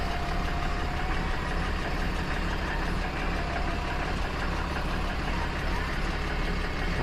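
A 2014 Cummins diesel engine in a MegaCab pickup idles steadily and close by, a constant low rumble with a faint knocking texture that holds unchanged throughout, with no one speaking.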